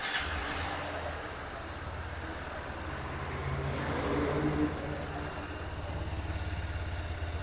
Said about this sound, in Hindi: तो अब आपको इसका एग्जॉस्ट साउंड सुना देते हैं कि वो कैसा है।